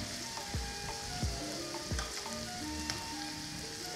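Shrimp sizzle and crackle in a hot frying pan for a paella, a steady close fry broken by a few scraping stirs, with no voices.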